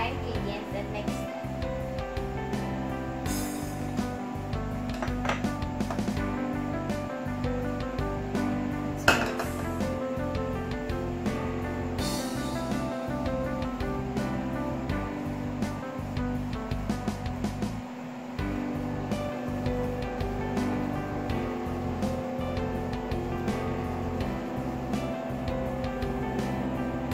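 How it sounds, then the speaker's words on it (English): Dry ingredients are mixed into chocolate cake batter. An appliance hums and rhythmically clatters against a bowl, with steady beats over close background noise and occasional louder knocks, and a person speaks at times. "Now we are going to put our dry ingredients and mix it."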